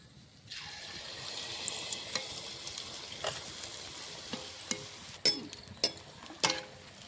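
Sara pitha rice cakes frying in oil make a soft, steady bubbling sizzle at moderate distance, punctuated by a few sharper clinks and scrapes toward the end.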